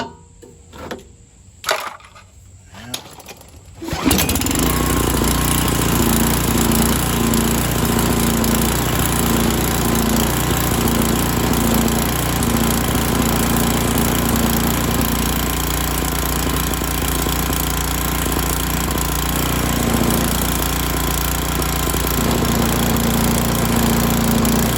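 An old Coleman generator is silent at first apart from a few clicks and knocks, then its engine catches and runs loud and steady with a constant rattling drone to the end.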